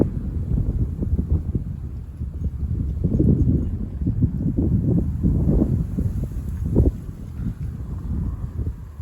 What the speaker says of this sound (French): Ça souffle bien, hein, quand même.